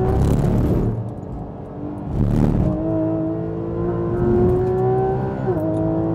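A car drifting on a race circuit, the engine revving up and down through the slide with rising harmonic whine, loud and close, with no talk.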